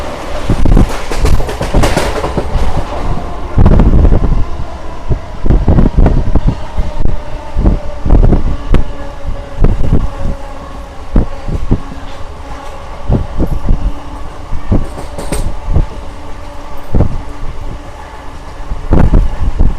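A Renigunta to Nellore MEMU passenger train runs along the tracks, a steady rumbling roar with repeated clacking thumps of wheels over rail joints and wind buffeting the microphone throughout.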